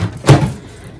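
A microwave door shutting in a home kitchen while mug cakes are made: a single solid thump with a short rattle, followed by quiet room tone.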